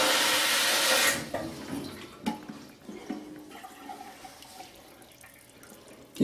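Water rushes into a toilet bowl to fill it during cleaning of a black mould ring, a loud gush for about a second that gives way to quieter trickles and drips.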